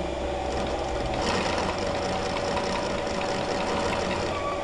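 An industrial sewing machine stitches a welt pocket on a garment front, a steady close mechanical whir and rapid needle chatter running continuously without pause.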